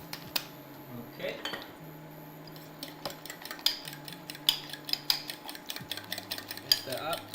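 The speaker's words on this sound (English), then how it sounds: "Whisk that up." Whisking ingredients in a bowl while making sandwiches: rapid irregular metallic clinks and taps of a whisk against the bowl, close and fairly steady, with low kitchen hum underneath.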